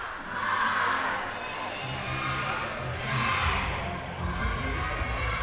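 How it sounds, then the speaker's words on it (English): Gymnasium crowd at a basketball game, with cheerleaders on the court, roars in a steady wash of cheering and shouting that swells twice, with music underneath. "Sauers cheerleaders have taken the court to try to ease that tension, to cheer on their team"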